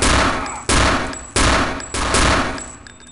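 A Luger pistol fires four evenly spaced, sharp, loud shots in Castle Wolfenstein, each crack followed by a fading ring before the next, heard alone with no talking.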